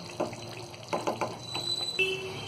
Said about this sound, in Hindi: एक गिलास पानी डाल रही हूँ और ये पानी हम इसमें डाल देंगे।